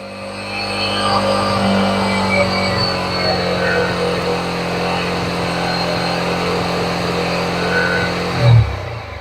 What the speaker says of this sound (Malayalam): increase the speed to two thousand five hundred to three thousand five hundred R P M and press okay button നമ്മൾ കുറച്ചും കൂടെ അതിൻ്റെ റേസിംഗ് കൂട്ടിപ്പിടിക്കുക